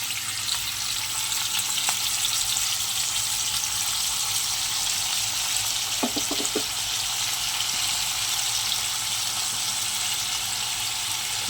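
Steamed taro stolons (lati) frying in hot oil with garlic and chili, a loud steady sizzling hiss that continues throughout, with a brief cluster of clatter partway through, no voices.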